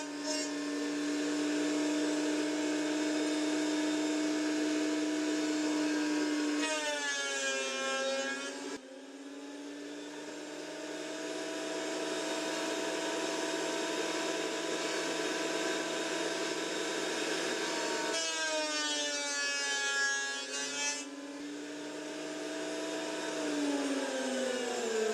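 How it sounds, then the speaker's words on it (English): A thickness planer flattens an old, badly warped wooden board that has dried for decades. Its loud, steady motor whine rises and falls through each pass, with a brief dip where the cut changes, and it runs continuously at close range. "I'm going to flatten the surfaces using my thickness planer"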